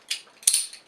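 A Deschutes Black Butte 26th Birthday Reserve beer bottle, wax-sealed and capped, gives a short sharp hiss of escaping gas when opened, preceded by a small click, close and fairly loud, with no talk.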